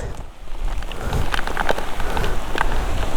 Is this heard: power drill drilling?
no